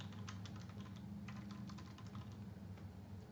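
Steady typing on a computer keyboard, a quick uneven run of light key clicks over a constant low background hum, no voices.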